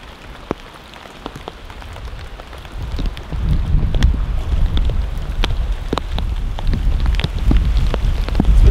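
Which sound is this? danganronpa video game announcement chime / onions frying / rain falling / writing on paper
rain falling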